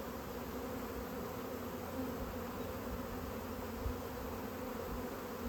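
A honeybee swarm clusters on a bivouac, filling the air with a dense, continuous buzz of many bees that holds steady and fairly loud throughout, with no voices.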